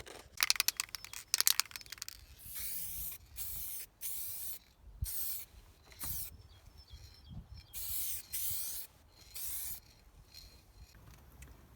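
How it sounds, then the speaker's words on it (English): Aerosol spray paint hisses onto the sills of a 1981 Volvo 345 in a string of short bursts, each a second or so long, separated by brief pauses, close and clear. "so I'll spray that up as well whilst I'm at it"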